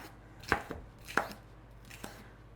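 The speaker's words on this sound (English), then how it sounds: "We're going to cut up some of these peppers in little pieces." Bell peppers are chopped on a cutting board with a knife into small pieces; four or five crisp, separate thunks land at uneven intervals, close and clear against a quiet background.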